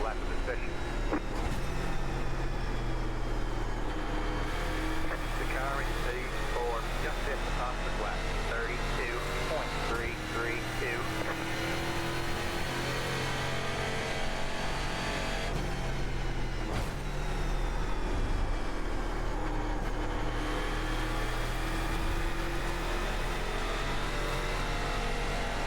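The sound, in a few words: race car engine braking in iRacing video game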